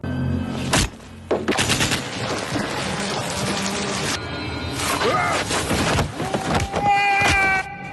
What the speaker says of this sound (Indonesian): Tembakan demi tembakan dilepaskan, namun tak satu pun mengenai dirinya.